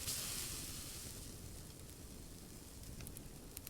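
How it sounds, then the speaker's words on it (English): Food sizzling in a pan over a fire in the survival video game Subsistence, a steady hissing sizzle that runs throughout, close and fairly loud, with no talk. "I'll cook this guy."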